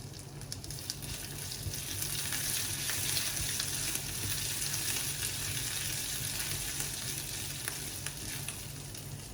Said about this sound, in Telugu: ఇప్పుడు కొద్దిగా అల్లం వేసుకుందాం